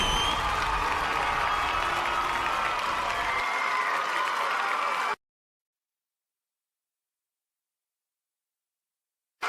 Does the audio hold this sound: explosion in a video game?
no